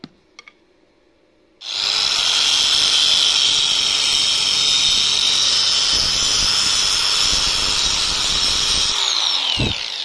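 A power hammer drives a grounding rod into the ground, starting abruptly after a short quiet spell and giving a loud, continuous grinding roar for about eight seconds before cutting off.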